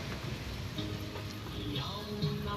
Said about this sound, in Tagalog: Habang nag-aantay, umuulan.